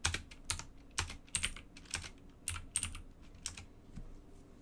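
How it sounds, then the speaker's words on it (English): A computer keyboard taps out a countdown: irregular clusters of crisp key clicks, close and clear, with short pauses between bursts and no talk. "Get to hear the keyboard counting down this time."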